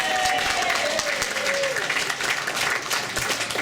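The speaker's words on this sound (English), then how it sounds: "let's give them a hand" An audience at a Mount Royal federal election campaign event gives a dense, steady round of applause lasting several seconds. A faint voice rises briefly above the clapping.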